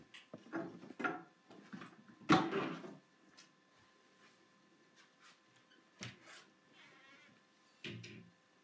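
A cat meows in short, separate calls, a few near and fairly loud, with quieter gaps and small knocking sounds between them.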